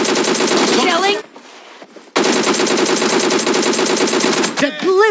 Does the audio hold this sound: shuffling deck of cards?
no